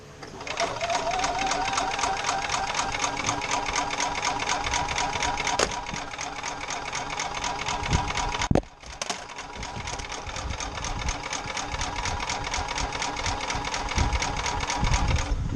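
Gas-powered golf cart engine cranking and failing to start, a long, fast rhythmic mechanical chatter that runs steadily, pauses briefly, then resumes, heard close up.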